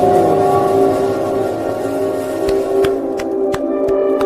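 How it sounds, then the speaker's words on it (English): A train rumbles past with a steady, loud mechanical drone and tonal hum, punctuated near the end by several sharp clanks or thumps before cutting off abruptly. "It's just a train"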